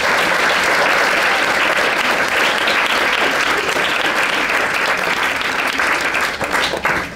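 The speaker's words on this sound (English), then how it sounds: "Please give them a round of applause." Audience applause for two judges at a 2011 awards ceremony, dense sustained clapping from a full room that carries on loudly throughout and starts to thin near the end.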